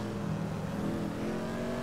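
A car engine in Grand Theft Auto V revs steadily with a droning, buzzing roar at moderate volume, alone without voices.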